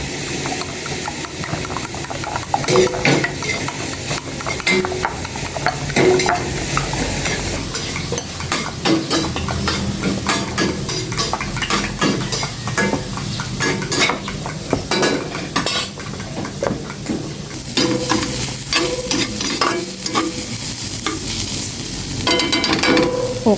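Bitter gourd stirred and fried in a pan, a steady close sizzle and hiss with repeated scraping strokes of a utensil against the pan throughout, no talking.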